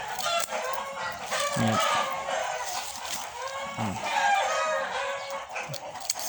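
Chickens cluck and squawk fairly close, with a rooster crowing in repeated bursts among them, faint and outdoors.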